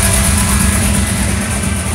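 Another car's exhaust idles loud and close, a steady low rumble with a constant hiss and no break, and no one speaking.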